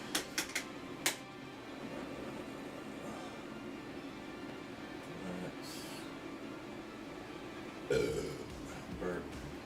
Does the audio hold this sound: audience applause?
no